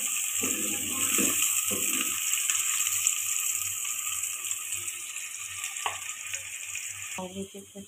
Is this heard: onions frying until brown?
yes